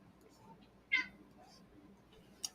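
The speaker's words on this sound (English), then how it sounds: "My cat's really annoyed." A pet cat meows once, short and fairly clear, at moderate distance over a quiet room hum, followed later by a brief faint chirp-like sound.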